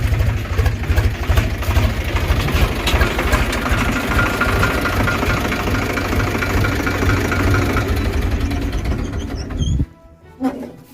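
A tractor engine idles close by with a steady low rumble and faint knocking throughout, stopping abruptly near the end and leaving quieter background noise.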